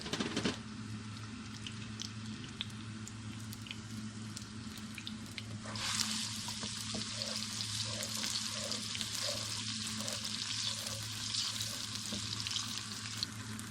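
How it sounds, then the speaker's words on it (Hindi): Onions hitting a hot pan of cumin fry with a steady, dense sizzle that swells sharply partway through as they go in, with occasional stirring scrapes and no talk. "ज़ीरा हल्का सा फ्राई हो चुका है, अब इसमें प्याज शामिल कर दूँगी।"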